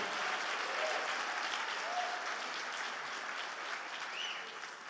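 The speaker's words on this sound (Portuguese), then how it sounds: "dê um aplauso bem forte ao Senhor" A church congregation applauds continuously at a Sunday service, steady broad clapping filling the space from start to finish, with a faint voice or two rising briefly above it.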